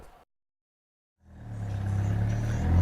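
A Vanderhall three-wheeled car, 2019 model, sets off on a ride: after a brief silence its engine rumbles up and builds into a steady, close, loud drone.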